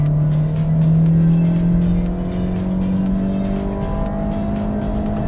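A Toyota Yaris XS with a manual gearbox accelerates at full throttle, its loud, close engine note climbing steadily in pitch through one gear without a break, and no voices over it.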